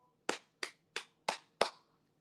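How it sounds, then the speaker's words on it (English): Five crisp hand claps land in an even, steady rhythm, each sharp and close with a quick decay, with silence between them and no talking. "You will now use your hand to clap."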